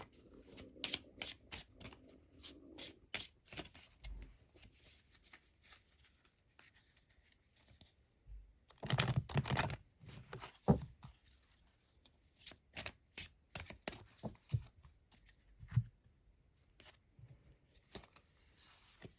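Shamanic healing tarot cards are riffled and shuffled by hand in a quiet room, with crisp papery flutters and taps in irregular bursts, a denser run midway and soft pauses between, close and without talk.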